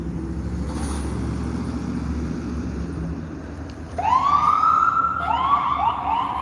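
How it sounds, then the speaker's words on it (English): An ambulance siren wails loud and near, its tone rising and falling in repeated sweeps over steady traffic rumble. "Ambulance."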